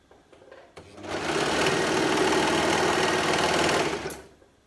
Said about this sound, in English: perfect overlocking, and going through 7 layers of fabric